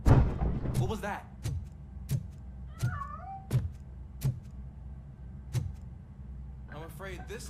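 A cat meows several times in RoboCop: Rogue City, short rising and falling cries at the start, middle and end, set between heavy, evenly spaced metallic footsteps.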